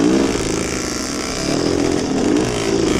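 A vintage Coyote MX dirt bike rides in third gear with the clutch slipped slightly to hold speed, its two-stroke engine buzzing loud and steady at close range, rising and falling a little in pitch.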